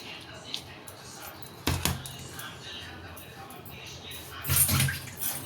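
Raw prawns tipped into a hot pan for a Bengali prawn bati chorchori, giving a short wet thud and splash, with a second noisy burst of clatter and sizzle a few seconds later over a quiet kitchen hiss.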